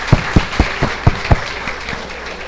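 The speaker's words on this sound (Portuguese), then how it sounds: "Queria pedir uma salva de palmas à dona Sônia" A small audience applauds a secretary who has been invited to a talk, with about six loud, separate claps in an uneven rhythm that close together and then thin into a faint patter.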